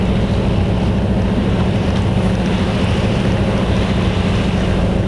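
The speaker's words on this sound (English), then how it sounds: "we're gonna see how Tortuga handles the wake as I cut through it at about an 80 degree" The 1936 yacht Tortuga cuts through a lobster boat's wake in Somes Sound, giving a loud, steady rush of water and wind noise that fills the whole stretch with no talking.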